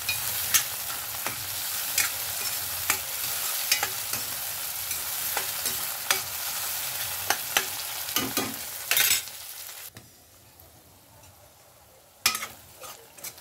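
Tomatoes for pav bhaji sizzle in oil in a pan while a spoon stirs them, with repeated scraping strokes over a constant close frying hiss that drops away briefly near the end.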